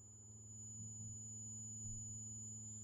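A low-frequency sine wave from an Arduino driving an MCP4725 DAC plays as a steady, quiet dull hum with a faint high whine above, unbroken and alone.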